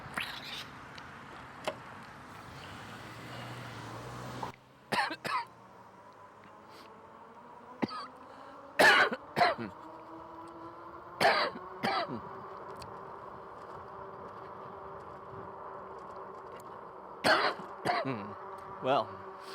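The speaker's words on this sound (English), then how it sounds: "that coughing has nothing to do with my coughing normally. It has to do with water going down the wrong pipe." Repeated coughing fits from someone who choked on water going down the wrong pipe during an e-bike trip, several sharp bursts spaced through the clip over a steady background hum.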